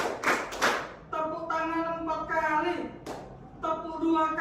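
Students in a classroom clap their hands a set number of times on a teacher's count: a few quick sharp claps at the start and again midway, with the teacher's clear voice speaking between them.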